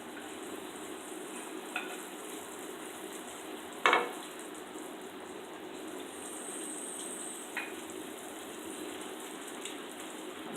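Fried fish simmering in a sweet and sour pineapple sauce, giving a faint, steady sizzle with a few soft clinks of a utensil. No one speaks.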